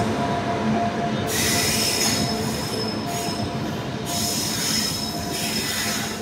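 Satluj Express, an ICF rake hauled by a Valsad-shed WAG 9 electric locomotive, rolls along with steady, loud wheel squeal and rumbling rail noise that swells and eases in waves throughout.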